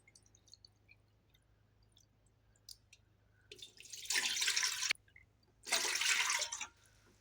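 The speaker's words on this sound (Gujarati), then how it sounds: "પાપડનું ખીચું બનાવવા માટે ગેસ ઉપર મેં તપેલું રાખેલું છે, તેમાં આપણે 3 વાટકા પાણી એડ કરશું" Water is poured from a bowl into a pot on a gas stove for wheat papad dough, in two loud splashing bursts of a second or two each, after scattered small clinks.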